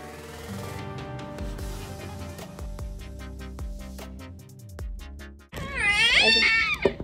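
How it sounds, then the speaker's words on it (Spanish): A cat meows loudly and close, a burst of rising, wavering cries near the end following several seconds of kitchen clatter and background music. "Ahí está el gato."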